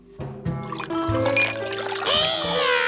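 Water pours and trickles in a Curious George cartoon scene, a continuous splashing stream blended with bright musical tones and a soft ding.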